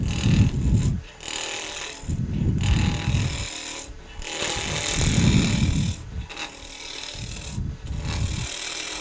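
A skew chisel cuts a spinning wood blank on a lathe in a series of rough, scraping passes, each lasting about a second with short pauses between, close and steady with no talk.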